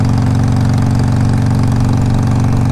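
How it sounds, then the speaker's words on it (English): A 2007 Harley-Davidson 883R motorcycle engine runs at a steady idle, close and loud, with an even, throbbing low-pitched pulse and no talk. "I'm very surprised with how good this motor runs."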